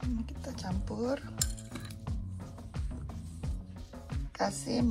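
A spoon stirs chia seed pudding with cut fruit in a bowl, giving repeated scraping and clinking strokes against the dish, close and fairly quiet, with a few louder knocks.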